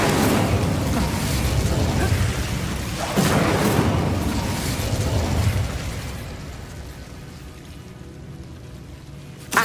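A fiery spell blast rings out in Hogwarts Legacy, a loud roaring burst with a second surge midway, then fading into a quieter rumble.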